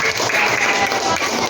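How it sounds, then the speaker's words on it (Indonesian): Children clapping together in a classroom, a brief, loud and dense flurry of hand claps filling the room throughout. "Tepuk tangan dulu dong."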